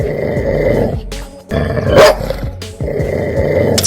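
A dog barks and growls loudly at a monkey on a rooftop in rough, repeated bursts, close by, with brief pauses between outbursts.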